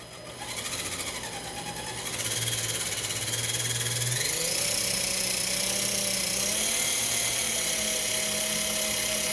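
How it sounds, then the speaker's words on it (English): Noisy drivetrain of an Axial SCX10 RC crawler truck, a continuous whining, gear-grinding motor drone that rises in pitch and loudness after the first seconds and holds steady, close and alone. "A bit of a noisy drivetrain."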